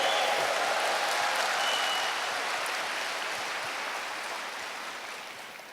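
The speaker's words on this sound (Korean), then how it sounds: "다시 한번 우레와 같은 큰 박수 부탁드립니다." Audience applause at a company event, a dense, steady wash of many hands clapping that slowly fades over several seconds, with no talking over it.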